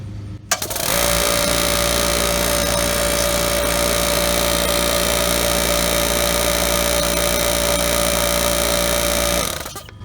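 An air compressor that is failing to build pressure runs steadily and loudly for about nine seconds with a constant motor hum and a sustained whine, starting abruptly and cutting off near the end.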